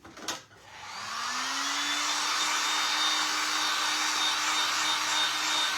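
Hair dryer blowing steadily close by, drying paint on a wooden cross, a sustained whooshing hum with a rising motor whine that settles into an even drone after a brief bump at the start.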